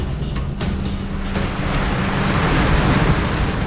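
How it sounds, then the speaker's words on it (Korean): Rough ocean waves and gusting wind buffet a fishing boat at sea off Korea during a net haul for yellow croaker and mackerel, a loud, continuous rushing surge that swells slightly toward the end, with no voices. "잠시 중단됐던 양망 작업이 다시 시작될 무렵 파도의 움직임이 심상치 않습니다"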